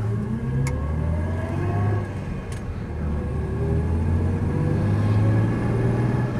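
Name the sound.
1966 Jaguar S-Type car driving off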